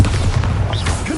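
A Bombarda blasting spell goes off in a Harry Potter video game, giving a loud, dense, noisy explosion rumble that holds steady for about a second.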